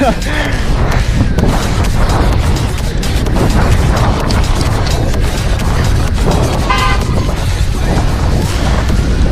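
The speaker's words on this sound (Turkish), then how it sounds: "Sonsuz trafik mükemmel." Busy street traffic passes with cars honking horns, a dense steady roar of engines and short toots, with a few knocks and bangs mixed in.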